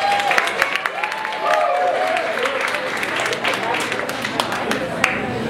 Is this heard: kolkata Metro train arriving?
no